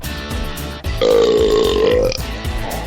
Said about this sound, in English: I got a burp, hold on.